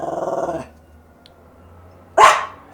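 Tipsy the dog lets out a run of rapid close barks, falls silent briefly, then gives one loud sharp bark.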